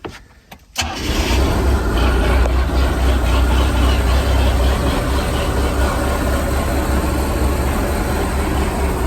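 A rebuilt 3.7-liter Mercruiser boat engine cranks briefly, catches and settles into a steady, loud rumbling idle that continues to the end.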